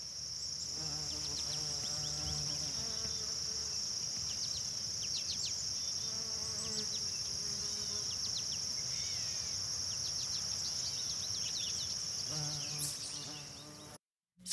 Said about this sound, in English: picking up all the ambient noise, the birds and the bees and the grasshoppers